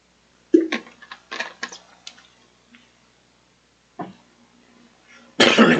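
A man coughs several times in short bursts, close and fairly loud, separated by brief quiet gaps.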